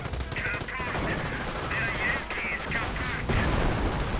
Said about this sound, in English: A charge right into a 30 caliber. Sniper opens up.